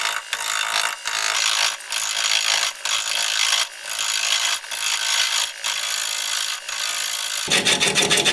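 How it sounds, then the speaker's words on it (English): Photinia root turned on a wood lathe at 400 RPM with a 5/8 inch bowl gouge, loud close rasping cuts in a rhythmic series of strokes with brief gaps between passes. "We're gonna be turning at 400 RPM, 5/8 inch bowl gouge"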